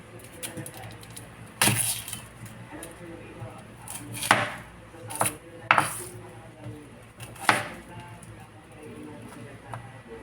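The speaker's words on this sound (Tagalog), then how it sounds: "Mag-slice tayo ng sibuyas." Onions sliced with a knife on a cutting board, a few crisp chops spaced irregularly over quiet room noise, fairly close and moderately loud.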